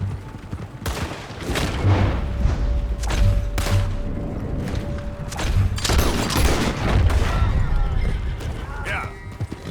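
Gunfire in Red Dead Redemption 2, a burst of sharp shots and booming reports in a rapid fusillade, loud and close, with voices talking during the shooting.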